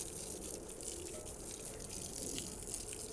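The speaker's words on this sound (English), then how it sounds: "Let's just flood it with some water." Water pours and gushes in a steady, fairly quiet stream over a ceramic-coated car wheel, a continuous flowing wash with no talk.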